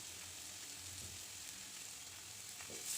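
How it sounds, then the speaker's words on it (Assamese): Onions frying in hot oil, giving a steady, close crackling sizzle that runs without a break and stays fairly quiet. "তেলত মই এতিয়া পিঁয়াজখিনি দি দিলোঁ।"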